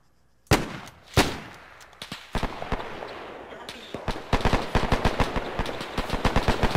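Gunfire at a World War II reenactment event in Death Valley, two loud single shots close by, then a building barrage of rapid overlapping shots and bursts from several guns, continuing dense and steady to the end.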